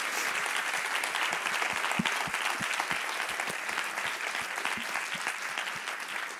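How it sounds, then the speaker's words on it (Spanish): Sustained audience applause at a tech conference talk, with a continuous wash of clapping and a few distinct close claps standing out, tapering slightly toward the end. "Le damos otro aplauso por ello, que se lo merece."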